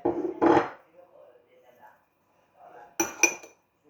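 Cereal seeds being mixed into bread dough in a bowl: two short clusters of clinking spoon-against-bowl sounds, close and fairly quiet, separated by near silence with a faint murmur between.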